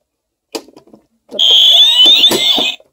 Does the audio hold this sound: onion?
no